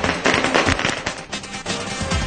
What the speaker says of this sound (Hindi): जयललिता को जमानत मिलने पर पटाखे छोड़कर खुशियां